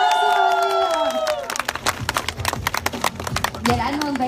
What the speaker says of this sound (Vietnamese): Một tràng pháo tay thật lớn để chúc mừng người chiến thắng Mr. Duy